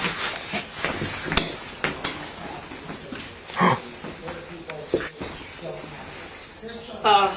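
A dog whimpers and plays with a toy, with soft whines, scuffling and thumps scattered among people talking nearby.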